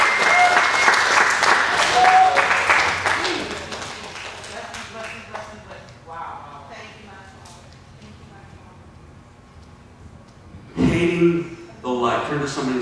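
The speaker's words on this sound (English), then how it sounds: "Let's give the Lord a hand clap of praise." A church congregation claps in praise for a few seconds, loud and dense, then fades as a preacher talks, with another short burst of clapping and voices near the end.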